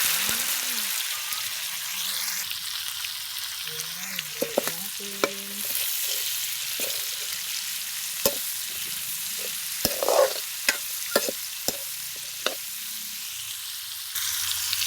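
Papaya pieces added to a hot pan and stirred, producing a soft sizzle with scattered sharp scraping and tapping of the spatula, close and with no talk.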